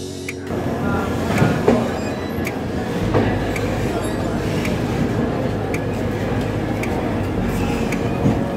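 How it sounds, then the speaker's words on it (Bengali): Ajmer Sealdah Express departing Dhanbad Junction, a steady rumbling roll of the moving train with faint clatter and occasional wheel squeal, heard from on board at moderate loudness. "চলুন ধানবাদ জংশন থেকে আপনাদেরকে ডিপার্চারটা দেখিয়ে দিচ্ছি।"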